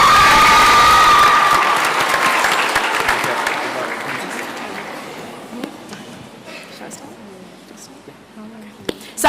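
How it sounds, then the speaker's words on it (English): A school debate audience bursts into loud, dense applause that fades steadily over several seconds to a few scattered claps, with a voice briefly audible at the end. "I'd like to welcome Nicole. Give her a round of applause."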